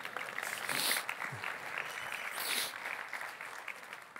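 A science audience breaks into applause, a broadband wash of claps that swells twice and stays steady throughout, moderately loud and close.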